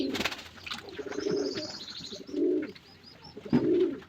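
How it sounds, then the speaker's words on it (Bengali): Pigeons in a loft coo in repeated deep, rolling phrases, close and clear, with a few lighter chirps between the coos and no voices. "এই যে লফটের মধ্যে পানির পাত্র বসিয়ে দেওয়ার সঙ্গে সঙ্গেই লক্ষা কবুতরটা চলে এসেছে।"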